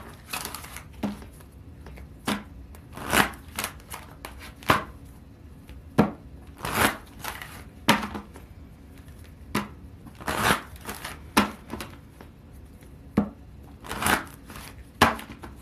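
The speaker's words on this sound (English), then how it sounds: "let's flip some love oracle cards" Love oracle cards are shuffled and flipped in irregular bursts of crisp riffling and snapping slaps, close and fairly loud, separated by quieter gaps.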